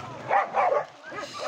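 Dogs at an animal shelter in Nazaré, flooded when the Jaguaripe River overflowed, let out a few loud, close barks and yips in quick succession, with people talking faintly nearby.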